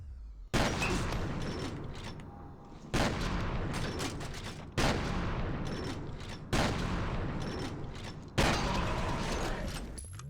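Five loud shotgun blasts from F.E.A.R. fire at roughly even two-second intervals, each a sharp booming crack followed by a long decaying tail.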